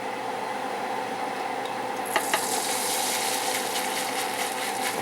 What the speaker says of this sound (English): We're going to make some fried rice. 2 tablespoons of oil.